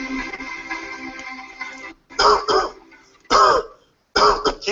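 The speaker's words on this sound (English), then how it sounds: "Keep coughing." A person coughs in three bursts with short pauses between, each a harsh, forceful hack up close, preceded by a stretch of low background murmur, during a basic life support choking demonstration.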